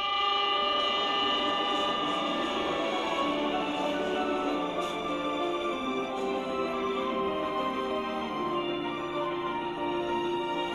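A slow green passenger train runs along a mountain railway, its low steady rumble mixed with sustained mechanical tones and faint clanks, fairly loud and even throughout.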